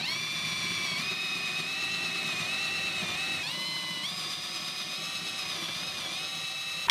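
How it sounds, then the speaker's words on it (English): A power drill whirs steadily throughout, its pitch dipping slightly now and then as it bores into pine, fairly quiet and continuous. "we're gonna go ahead and drill the hole"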